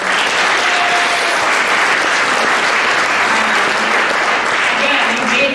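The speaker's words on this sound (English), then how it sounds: "Let's give Cass a round of applause." Steady, loud clapping from a crowd at a lacrosse national letter of intent signing ceremony, sustained evenly for several seconds.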